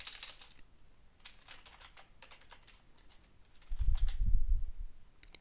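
A password being typed on a computer keyboard: a quiet run of quick, light key clicks in short bursts, ending in a few firmer, louder taps.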